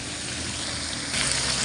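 Tomatoes with turmeric sauté in a hot pan, a steady close hiss and sizzle that swells slightly louder near the end.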